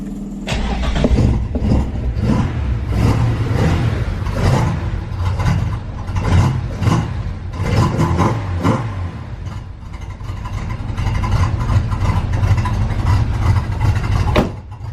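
A 4-cylinder Toyota Supra engine cranks and catches, then settles into a rough, uneven idle with irregular surges and sputters, loud and close, with no voices.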